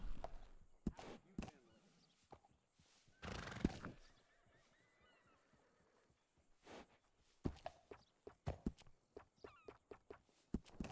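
Horse whinnies in the Red Dead video game, a loud neigh with hoof clip-clops and scattered sharp thumps around it, with no talking.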